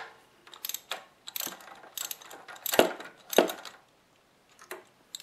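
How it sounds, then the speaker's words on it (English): A socket ratchet with an extension clicks in short bursts, loosening a spark plug on a Kawasaki Vulcan 800 motorcycle, close and alone, with two sharper metallic snaps midway. "I'm going to use my extension, hook it in, go in with my ratchet."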